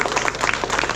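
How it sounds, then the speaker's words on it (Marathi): An audience claps at the inauguration of a Buddhist vihara in a village, a dense burst of many hands close by in a short, even spell. "सर्वांनी जोरदार टाळ्या झाल्या पाहिजेत."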